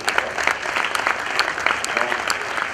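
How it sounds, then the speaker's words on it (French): Steady audience applause at a trophy ceremony honoring student laureates in the Democratic Republic of the Congo, continuous and fairly close throughout. "vous méritez ces applaudissements"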